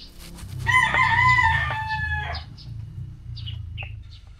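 A tied-up gamecock crows loudly and close by, one long drawn-out call followed by a few shorter squawks over low background noise.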